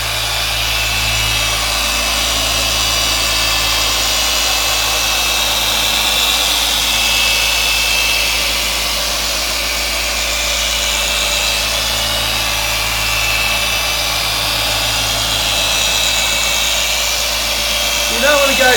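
Car polishing machine running steadily with Norton Liquid Ice polish, a loud continuous vibrating whir holding for the whole stretch with no break or change in pace.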